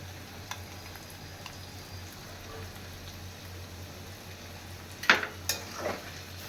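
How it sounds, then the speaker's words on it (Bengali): Ground turmeric, cumin and chilli sautéed in a pan for a lote fish curry, a soft steady sizzle with a low hum underneath and a few louder scraping stirs near the end. "এবার এটা আমি ভালো করে কষিয়ে"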